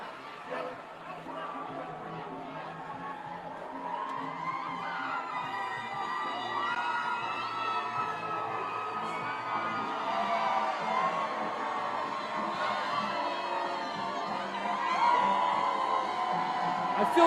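A packed crowd on Ocean Drive screams, whoops and cheers in a continuous roar at the Jason Kelce Beach Bash, an Eagles Autism Foundation fundraiser, with voices close by and the noise swelling toward the end.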